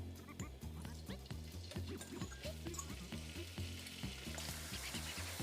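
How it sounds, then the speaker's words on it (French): Meat frying in olive oil in a wok gives a steady close sizzle, with a low rhythmic mechanical hum pulsing underneath and faint clinks here and there. "Je vais tout d'abord poêler la viande et les oignons pour ensuite m'occuper des légumes."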